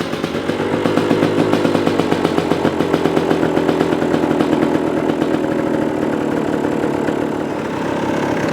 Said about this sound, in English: I like the way that's idling. You can hear it, it's just level.